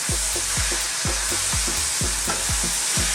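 Minced beef keema curry frying with chili, cumin, turmeric and coriander powder, stirred in a rhythmic series of about eight firm scrapes of a spoon against the pan over a loud, constant sizzle, close up with no voices.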